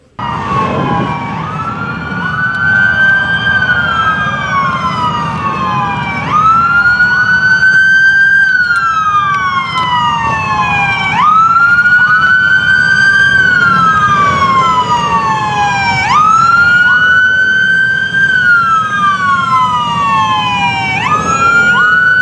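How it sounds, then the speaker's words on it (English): A loud emergency siren wails in repeating rising and falling sweeps, close by, with a low vehicle engine rumble underneath and no talking. "all of a sudden we heard the sounds of the sirens"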